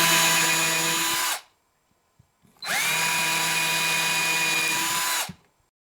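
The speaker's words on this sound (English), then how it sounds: "going to drill pilot holes" A power drill boring pilot holes into a wooden board runs in two steady, loud bursts, roughly a second long and then nearly three seconds, with a short quiet gap between them and no talking.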